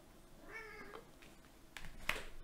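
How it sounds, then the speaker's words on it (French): A small cat meows faintly indoors, a few short mewing calls followed by a sharper, louder cry near the end. "j'ai un petit chat qui miaule"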